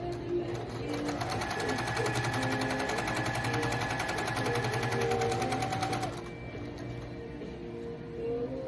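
A Juki sewing machine stitching a quilt block runs in a fast, even mechanical chatter for about six seconds, loud and close, then stops, leaving quiet room noise.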